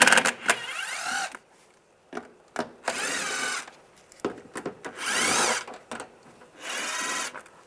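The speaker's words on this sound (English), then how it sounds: "I'm going to use a T25 socket, take these screws out." T25 socket backing screws out of a Volkswagen Jetta trim panel, bursts of ratcheting and scraping rubs in several short separate spells with brief quiet gaps between them.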